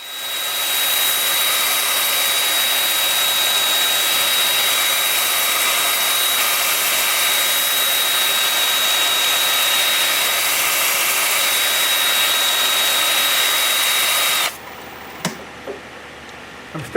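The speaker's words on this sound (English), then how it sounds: "All right, time for sanding" Loud, steady whooshing abrasive hiss of 120-grit sandpaper against a wood bowl spinning on a lathe, continuous for most of the clip, then cutting off abruptly near the end.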